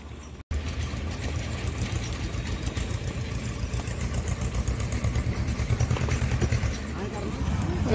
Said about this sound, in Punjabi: ਇਹਦੇ ਆ ਖਰਕਾਟੇ ਟਰੈਕਟਰ ਦੇ